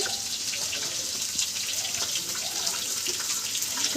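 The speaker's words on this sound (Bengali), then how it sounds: "একটু জল দিল" Water trickles steadily from a tap or vessel into a turmeric and chili powder spice mixture being prepared for a home-cooked Bengali fish curry, a continuous close splashing hiss with no talk.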